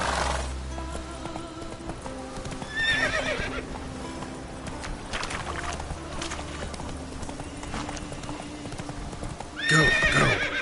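Roach the horse in The Witcher 3, hooves clip-clopping in a steady galloping rhythm, broken by loud whinnies near the start, partway through and at the end, over a soft ambient backdrop.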